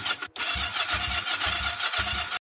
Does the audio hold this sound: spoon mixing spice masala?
no